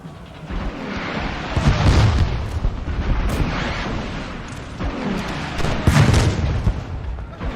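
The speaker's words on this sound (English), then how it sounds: "The artillery is going to start firing" Napoleonic artillery in Napoleon Total War, a grand 3v3 battle, booming in heavy rolling volleys with deep low rumbles swelling around two and six seconds over a continuous din of battle, no voices.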